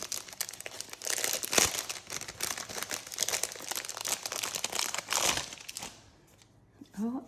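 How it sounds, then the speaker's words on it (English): Small paper envelopes being opened and handled, with continuous crinkling, tearing and rustling of paper close by, a couple of sharper rips, then a brief voice at the end. "And then these little envelopes. So I'm gonna open these."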